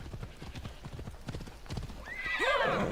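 A horse in Assassin's Creed Odyssey clip-clops along in a steady hoofbeat rhythm, then lets out a loud, close neigh at the end.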